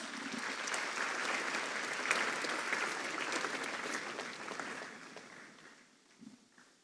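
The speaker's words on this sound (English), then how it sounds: "Please, with a round of applause." Dense applause from an audience at a national dialogue event on tackling tax revenue leakages, steady and full for several seconds before thinning out and fading near the end.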